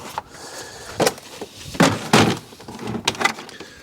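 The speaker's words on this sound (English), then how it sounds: "Right, let's get the door card on." A door card is fitted onto a Fiat 500 door in a series of sharp, close knocks, clicks and clunks at irregular intervals, with no talking.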